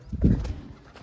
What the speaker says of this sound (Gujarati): બધા કબૂતરા બાંધવાનું ચાલુ થઈ છે